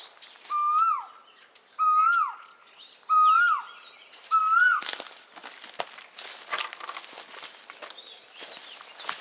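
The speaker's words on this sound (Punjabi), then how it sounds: "ਕੋਇਲ ਦੀ ਕੂ ਕੂ" An Asian koel calls outdoors near a hillside temple site, giving four clear rising whistled notes at a steady rhythm, each fairly loud, followed by noisy rustling and scattered clicks with faint bird chatter in the background.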